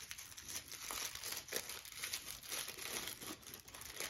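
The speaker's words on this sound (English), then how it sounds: "first let's unwrap the outfits" Plastic packaging of LOL Surprise Boys Series 3 doll outfits being unwrapped up close, a continuous crinkling and crackling with a few sharper tearing rustles.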